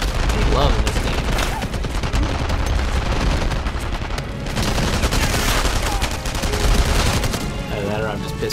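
Rapid bursts of gunfire and explosions from a World War II first-person shooter, Enemy Front, fill the scene continuously and loudly, with dense overlapping shots and booms, some game voices mixed in.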